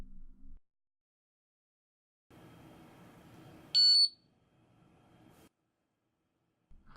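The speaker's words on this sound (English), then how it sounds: "When zeroing is complete and successful, the meter will beep and display 4 check marks." A Ventis Pro4 gas meter gives a single short, high-pitched electronic beep after zeroing finishes, heard between stretches of quiet background rustle.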